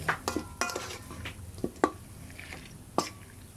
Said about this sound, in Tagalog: Haluin lang nating mabuti at ilagay na rin natin ang ating ginawang paste kanina.